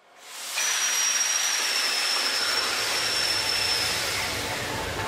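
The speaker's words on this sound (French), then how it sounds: "le moteur qui a été allumé le matin, une demi-heure avant de larguer les amarres" A sailing boat's engine, started in the morning before casting off, rises within half a second into a steady, loud hiss-like roar that holds on evenly with a faint high whine on top.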